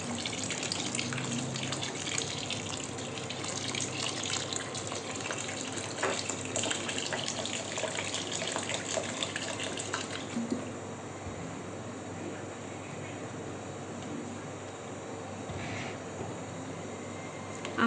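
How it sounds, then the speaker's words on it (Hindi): Water poured from a tap or jug into a pot of soaked rice for beef yakhni pulao, a steady close gushing splash that runs for about ten seconds, then drops to a quieter trickle. "अब जब हमने इसमें पानी जब ऐड करेंगे"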